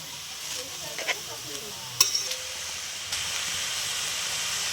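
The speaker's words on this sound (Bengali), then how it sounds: "উল্টে পাল্টে নেড়ে দিচ্ছি" Shredded cabbage frying in a pan with potatoes and moong dal, stirred with a few clinks and scrapes of a utensil over a steady, soft sizzle.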